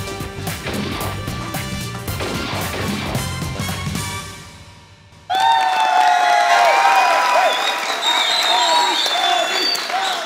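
A studio audience claps on a comedy talk show, loud dense applause with some crashing sounds, which fades briefly and then gives way to bright musical jingle tones over a continuing crowd roar.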